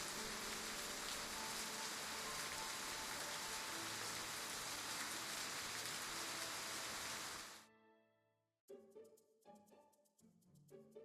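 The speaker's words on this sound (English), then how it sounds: "I wanted the rain to last a little longer." Steady, dense rainfall in the video game Love and Deepspace hisses evenly for several seconds, then stops abruptly and gives way to soft music.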